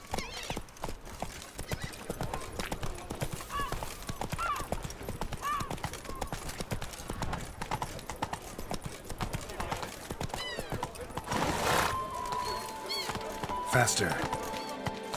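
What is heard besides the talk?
horse Roach galloping, from The Witcher video game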